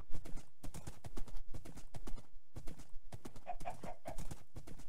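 Horse hooves clip-clop in a steady, close rhythm in the blocky survival game Minecraft 1.8, with repeated evenly spaced clops carrying on through the whole stretch and no talk over them.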